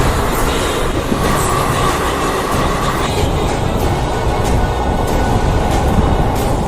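Ratnachal SF Express with ICF coaches passing at speed, a loud, close, continuous roar of wheels and rattling coaches with faint clickety-clack throughout.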